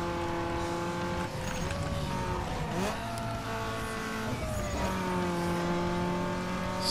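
A race car engine in Need for Speed Underground 2 whines at high revs, its pitch dropping at gear shifts and rising again, with brief tire squeal as it takes corners. The engine note is steady and fairly close.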